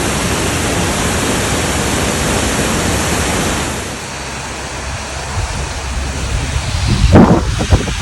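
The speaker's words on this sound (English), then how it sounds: "It's a beautiful waterfall though, isn't it?" Bridal Veil Falls pours in a dense, steady rush of water, loud and close, thinning slightly midway before a sharp thump near the end.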